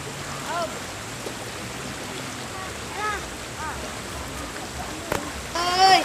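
Water of a river flowing steadily as a broad wash, with faint children's voices and splashes as a group washes a mosque mat together in a village stream in Lempur, Kerinci, Jambi.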